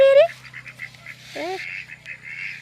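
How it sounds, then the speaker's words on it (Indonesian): Ducks or geese give a loud honking call up front, then a string of shorter quacks, a second call in the middle and steady cackling to the end, with a low hum underneath, outdoors among poultry. "Bebek ya."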